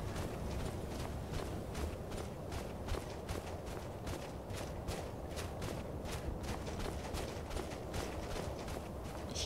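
A goat runs on its hooves in Skyrim, a quick, regular patter of hoof steps continuing evenly over a steady background hiss.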